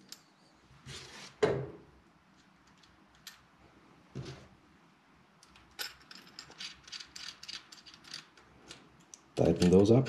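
Screws are tightened on the plate of an FX Panthera air rifle during a left-handed conversion, giving sparse close mechanical clicks and scrapes that end in a short burst of rapid ratcheting.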